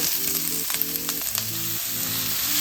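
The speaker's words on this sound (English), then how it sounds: "we are just stir frying the onions and the peppers" Loud, steady sizzling of red onion and red pepper stir frying in a wok, with a few utensil clinks and a low tonal drone underneath.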